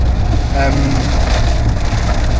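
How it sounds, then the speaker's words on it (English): Steady rain falls continuously with a dense, even hiss that stays loud throughout, and a faint voice murmurs briefly beneath it. "Come on, rain, stop!"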